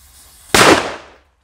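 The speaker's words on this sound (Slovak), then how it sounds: "Pokračujeme s petardou FP3 New, nikdy som ju neodpaloval zatiaľ, takže dáme si len takto na voľno, aby som počul aj tú ranu" An FP3 New firecracker set off in open air bursts once with a sharp, loud bang that decays over about half a second, in otherwise near-silent surroundings with no voices.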